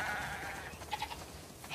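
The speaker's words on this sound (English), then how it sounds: "We definitely have way too many sheep." Sheep bleat faintly in a few short, wavering calls against soft ambient background noise in the video game The Last of Us Part II, with no talking.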